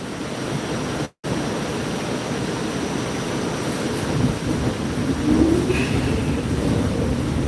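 Steady rumbling roar inside a moving Staten Island Railway train, a broad continuous wash of wheel and track noise that grows slightly louder toward the end, with a brief dropout near the start.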